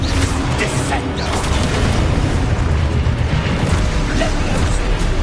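A Descendo spell strikes in a Harry Potter video game, giving a loud, dense rumbling blast that carries through the whole stretch with steady booming bursts.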